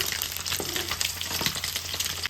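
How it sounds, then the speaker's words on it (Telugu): Boiled eggs fry in hot oil with turmeric for an okra and egg curry, a close, constant crackling sizzle with small pops and a brief scrape of a utensil partway through. "ఇలాగా ఆయిల్లో పసుపు వేసి వేస్తే మనకి ఇలాగ కలర్గా వేగుతాయి గుడ్లు"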